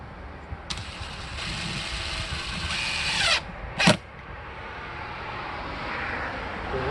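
Outdoors, a power driver sinks the screws of a wireless solar battery security camera mount, whining in a sustained burst followed by a short second spurt over faint background noise.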